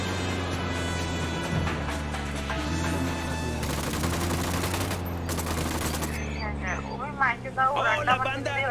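Gunfire in the video game Ghost Recon crackles as steady bursts beneath a continuous music bed, with a voice talking over it and a sharper cluster of shots near the end.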